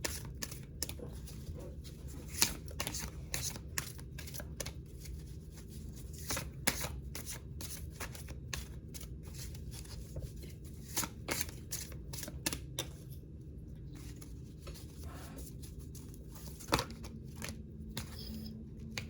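Tarot cards are shuffled continuously, with a dense run of crisp riffling snaps and flutters, close and fairly quiet, and a few sharper slaps as several cards drop out at once; no talking.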